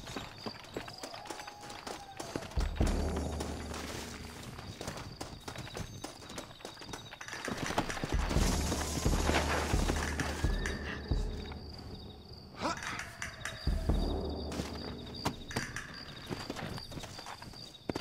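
Horses trot in Red Dead Redemption, with steady hoof clip-clops that swell louder in bursts over a busy game soundscape, with no voices.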